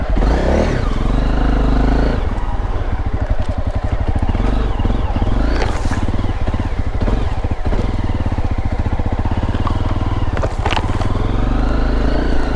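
A motorcycle engine runs loud and close throughout, rumbling and revving unevenly as it rides over rough ground, with rattling clatter.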